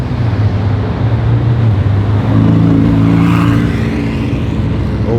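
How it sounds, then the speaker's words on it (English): A Lamborghini Aventador SVJ revving and driving through town in Zurich, a loud, close, continuous engine roar that climbs in pitch as it pulls away, with no talk over it. "That's how you drive an SVJ in town."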